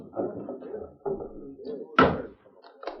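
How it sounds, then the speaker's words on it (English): Door opening in an old radio western drama, a single sharp knock-like thud with a creak, set among muffled voices talking nearby. "Open the door, Hank."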